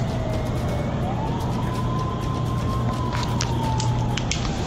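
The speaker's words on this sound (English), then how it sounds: "he hears an ambulance pull up to the defunct hospital" An ambulance pulls up to a defunct hospital, its siren a faint, distant wail that rises and slowly falls over a low steady rumble.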